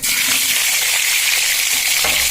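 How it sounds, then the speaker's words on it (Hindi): Potatoes frying in hot oil in a pan with cumin seeds and asafoetida, a steady loud hiss and sizzle throughout with faint stirring, no voices. "ये आलू के हम लाल कर ले छिए, लाल फ्राई।"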